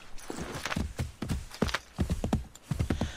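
Horse hooves clip-clopping in the video game Assassin's Creed 3, a steady run of close, crisp hoof strikes across the whole stretch with no talking.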